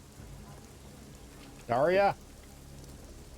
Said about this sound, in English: I really enjoy the sound of rain